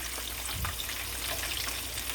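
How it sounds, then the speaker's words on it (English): A soft, steady crackling sizzle of chicken frying in oil, continuous and fairly quiet with tiny pops scattered throughout. "make sure you're always hearing that sizzle"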